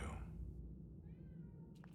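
A cat in the video game Murdered: Soul Suspect gives one soft, faint meow partway through, set over a low steady game ambience.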